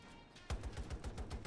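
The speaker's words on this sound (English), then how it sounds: "Who's he shooting at?" Rapid bursts of gunfire in Battlefield 2042 break out after a quiet half-second, with a string of loud, evenly spaced shots continuing to the end.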